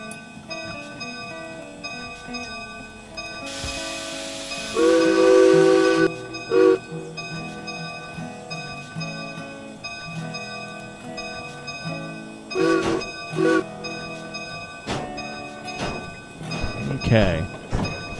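Train sounds in the video game Derail Valley, with a burst of steam hiss, clanks and a brief whistle-like tone heard intermittently under ongoing talking and tonal background music.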